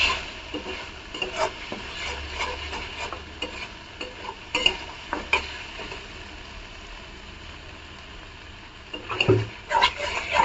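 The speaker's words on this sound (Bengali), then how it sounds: "এবার এটাকে আমরা কষাবো আস্তে আস্তে।" Eel curry with a little added water cooks slowly in a pan, with a soft sizzle under intermittent scraping stirs that grow busier near the end.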